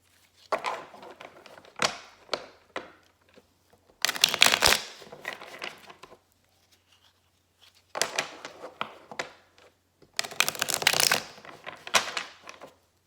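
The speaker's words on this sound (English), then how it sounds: "I'll shuffle and pull 3 cards from each deck to form 4 different piles." Bursts of tarot card shuffling, four rapid riffling passes with quieter handling and taps between them, close and crisp with no talking.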